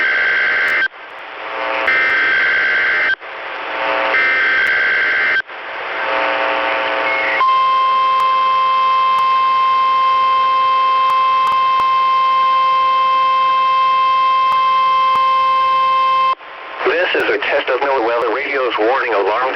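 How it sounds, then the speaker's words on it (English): A NOAA weather radio warning device test for Maricopa and Northwest Pinal counties: three short, loud, buzzy data bursts, then a long, steady, piercing alarm tone lasting about nine seconds, followed by a broadcast voice. "This concludes the test of the NOAA weather radio warning device."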